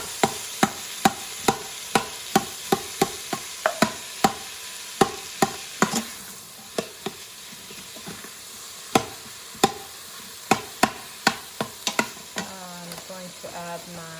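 Starchy vegetables browning in a pan for African peanut soup, with a low steady sizzle under regular sharp spatula taps and scrapes, and no voices.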